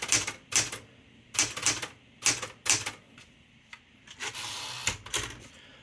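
A blue Smith-Corona Galaxie Twelve vintage manual typewriter clacks through a run of sharp key strikes, some in quick pairs and others spaced apart, close and crisp against a quiet room.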